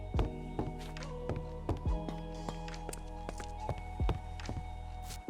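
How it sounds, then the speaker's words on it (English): Footsteps in Minecraft with a footstep sound mod, a series of distinct, evenly spaced steps thudding on blocks, fairly close, over a steady low hum. "You can also add present footsteps, which improves sounds depending on what block we're walking on"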